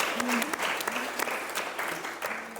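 Applause from a small audience at a live trail running show for an ultra trail event in Australia, scattered claps mixed with brief voices and cheers, fairly quiet and close.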